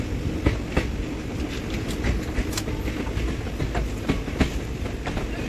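An Indian passenger train pulling out of a station after a short stop, a steady heavy rumble with rhythmic wheel clicks and clanks over the rails, close and continuous, no voices.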